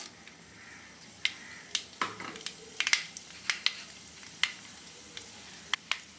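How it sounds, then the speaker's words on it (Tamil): Mustard seeds pop and splutter in hot tempering oil in a pan, sharp irregular crackles scattered over a quiet background sizzle, close and fairly faint. "கடுகு நல்லா புரியுது"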